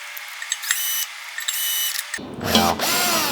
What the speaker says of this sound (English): once you're finished with your drill, just tighten those extra tight with your Allen key